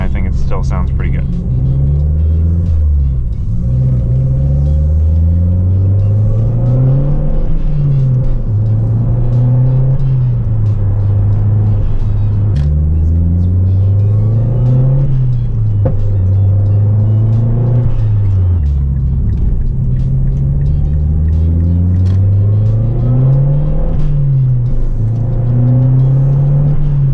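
Heard from inside the cabin of a Mazdaspeed 3, the engine revs up through gears in three repeated pulls, rising and falling, with a Turbosmart 50/50 blow-off valve hissing between shifts.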